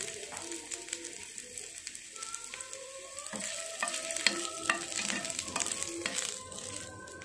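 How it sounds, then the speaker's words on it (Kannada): Ginger fries in hot oil for a crab curry, a crackling sizzle broken by repeated scraping and clinking of a stirring spoon, growing busier toward the end, with birds calling in the background. "ಇವಾಗ ಎಣ್ಣೆ ಕಾದಿದೆ, ಇದಕ್ಕೆ ನಾನು ಶುಂಠಿ ಹಾಕ್ಕೊಳ್ತಿದ್ದೀನಿ."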